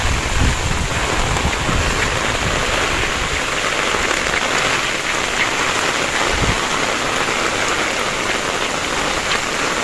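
Heavy rain from Cyclone Sitrang pours in a dense, steady hiss of drops on surfaces, constant and enveloping, with a faint low thump partway through.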